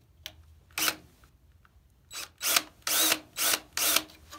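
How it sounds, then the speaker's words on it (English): A series of short, sharp drill bursts marking metal on a golf cart, sparse at first and then in a quicker rhythm of four or five pulses, close by. "I'll go ahead and drill the first hole."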